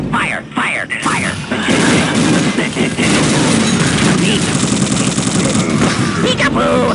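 Weapons fire in an Unreal Tournament 2004 deathmatch with ballistic weapons: dense, loud, overlapping bursts of shots and booms, with a voice shouting over the chaos.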